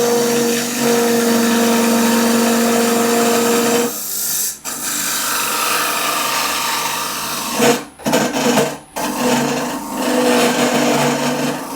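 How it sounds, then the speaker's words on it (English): A woodturning lathe cuts wood with a square carbide-tipped cutter, giving a steady, close, loud whirring scrape that runs continuously and breaks off briefly twice as the tool lifts from the spinning workpiece. "more with the square carbide tipped cutter"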